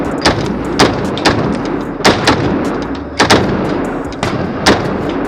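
Sharp, loud gunshots from a Ruger Mark IV pistol ring out one after another at an uneven pace, about a dozen cracks over steady background noise.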